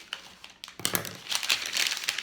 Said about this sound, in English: I've got some scissors here, so I'm just going to cut the plastic part off.